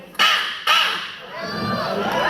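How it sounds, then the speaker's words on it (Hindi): Crow cawing in a spooky Hindi audio story, two sharp harsh caws followed by a longer raspy call, close and loud. "जिसके मेन गेट पर एक कौवा बैठा हुआ था।"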